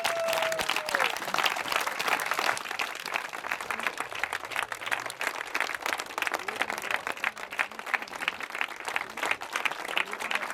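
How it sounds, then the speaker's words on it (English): An audience at a human powered vehicle championship claps steadily, a dense, sustained round of applause from many hands with no lull, fairly close. "Give yourselves a big round of applause."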